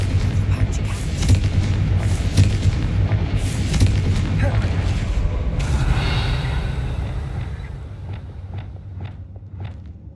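Confringo spell explosions in a wizarding video game, heavy booming blasts repeating over a rumbling background, loud at first and fading toward the end, with a voice speaking over them.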